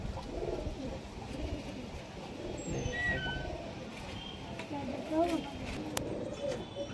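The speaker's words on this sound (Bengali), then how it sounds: "দেশি হাই ফ্লায়ার মাদা পায়রা।" Desi high flyer pigeons coo softly amid a noisy, murmuring background with people talking nearby, a few faint calls rising over the din.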